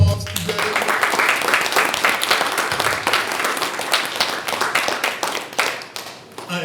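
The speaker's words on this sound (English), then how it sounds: "if you can give all of those that helped plan a round of applause today" An audience at a conference on challenging prisons for profit gives a round of applause, a dense, continuous wash of many hands clapping that holds steady for several seconds before tapering slightly.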